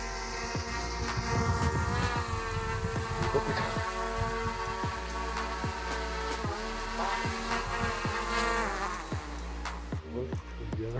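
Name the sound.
DJI Mini 3 Pro drone hovering before hand catch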